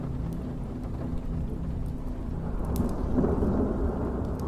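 A thunderstorm sound effect of steady rain with low rumbling thunder that swells toward the end, continuous and fairly quiet, with no talking.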